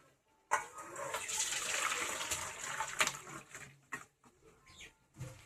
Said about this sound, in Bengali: আলুগুলো জল ঝারিয়ে নেব।